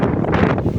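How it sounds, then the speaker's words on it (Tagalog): Strong wind gusting across an outdoor microphone at night in Mindanao, a loud steady broadband roar and buffeting that fills the whole short moment with no pause. "lakas ng hangin"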